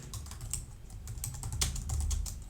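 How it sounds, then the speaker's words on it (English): Typing on a computer keyboard while working in Figma, a quick run of light close key clicks with small uneven pauses, quiet and without talk. "I will just hit T and select and type continue with Google"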